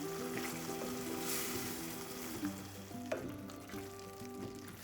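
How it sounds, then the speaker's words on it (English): Tomatoes for a tomato chutney cooking in a pan, a soft steady sizzle with occasional scraping stir sounds, quiet and close with no talking. "Stir and cook the tomatoes for 5 minutes until the tomatoes become mushy."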